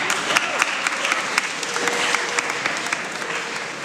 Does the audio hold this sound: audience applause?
yes